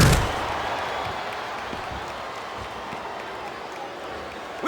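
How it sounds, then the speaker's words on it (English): A capacity arena crowd roars steadily during a buried-alive wrestling match at a big pay-per-view event, a dense continuous wash of cheering after one sharp burst at the start. "This capacity crowd is making their opinions known tonight."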